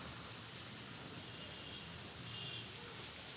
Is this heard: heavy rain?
yes